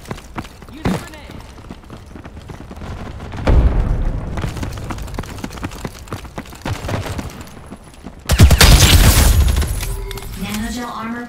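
A grenade blast and gunfire from the Ghost in the Shell: Stand Alone Complex first-assault shooter in a neon ruins setting. A heavy mid-clip explosion gives way to a loud, dense burst of firing and debris, over a constant background of clatter.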